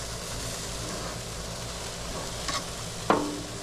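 Ribeye steaks, burgers and chops sizzle steadily on an outdoor grill, a continuous frying hiss with a soft scrape or clatter near the end as the meat is turned.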